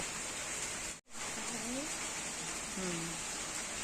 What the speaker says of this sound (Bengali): কিরম বৃষ্টি পড়ছে আজকে